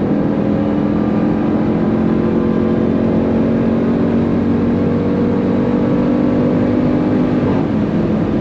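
A Jeep Trackhawk engine drones loud and steady under hard acceleration at high speed, a sustained roar with rising harmonic tones and constant road and wind noise.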